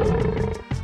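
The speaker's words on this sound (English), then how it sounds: "Triumphant roar in the rain puts out the fires." Simba's lion roar from The Lion King SNES game sounds as a single short, loud synthesized roar with a rough, growling texture, heard alone and up close.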